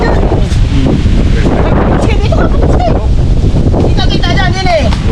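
Strong wind at an outdoor camp, loud constant gusting and microphone rumble filling the clip while voices talk over it.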